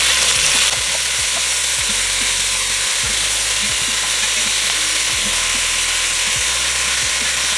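Beef neck bones brown in hot oil, a loud, steady crackling sizzle close up, broken by occasional scraping knocks as the pieces are turned in the pan.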